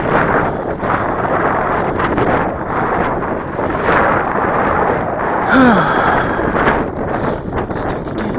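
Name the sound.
strong wind blowing at an RC plane flying field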